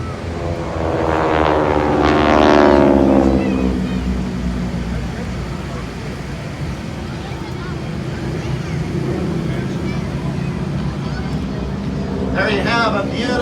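Yellow trainer aircraft flying a formation barrel roll at an air show at Moses Lake, Washington, a broad engine drone swelling and fading overhead, steady and moderately loud with wind noise, while an announcer talks over it.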